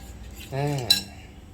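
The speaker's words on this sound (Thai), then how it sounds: "ก็คนผสม คลุกเคล้าให้เข้ากันนะฮะ" A utensil stirs and mixes seafood udon in a pot, giving a brief scraping tone followed by a single sharp metallic clink, close and fairly quiet.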